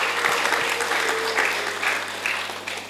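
Seminar attendees break into warm applause for a national Qur'an writing competition winner; the crowded clapping is loud at first and fades gently over about three seconds, with no one speaking.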